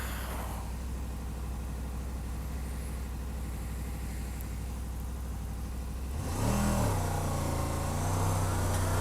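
A V4 motorcycle engine hums steadily at low revs while riding, then after about six seconds the rider opens the throttle and the engine note climbs loudly into a strong, rising rev before settling into a higher drone.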